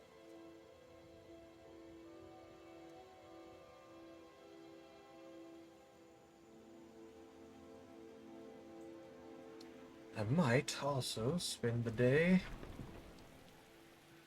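Steady rain patters in Skyrim Special Edition, a faint constant wash beneath low background tones, and someone talks over it near the end; no clear thunder stands out.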